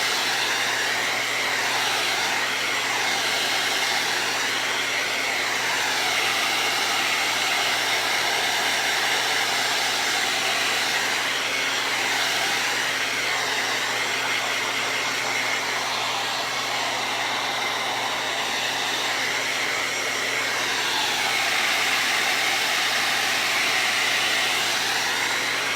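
A hair dryer blows steadily and loudly for the whole stretch, drying paint on a pumpkin, with a constant whooshing hum that only wavers slightly.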